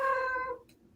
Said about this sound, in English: I apologize for my cat in the background.